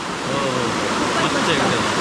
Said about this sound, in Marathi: पाणी एकदम छान एकदम मस्त वाहतं पाणी आहे